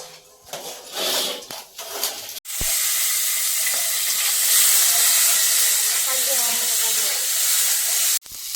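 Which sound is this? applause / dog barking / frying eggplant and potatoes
frying eggplant and potatoes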